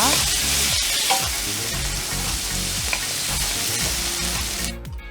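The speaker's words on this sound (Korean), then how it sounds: "새우도 노릇노릇하게 익혀주세요" Shrimp fry golden in oil for honey-mayo tteokbokki, giving a dense, loud, close sizzle with crackles that runs without a break and then cuts off abruptly.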